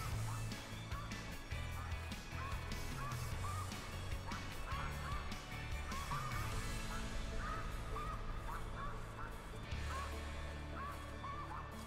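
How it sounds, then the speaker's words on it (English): Geese honk repeatedly in a hunting video game, with a dense, overlapping flock chorus that carries on steadily. A voice talks faintly underneath. "Are the geese louder in Classic?"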